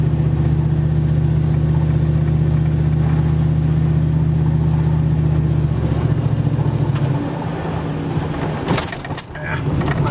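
A car drives across a slushy winter road with potholes, its engine a steady droning hum inside the cabin that shifts and loosens after about seven seconds, with some rustling near the end.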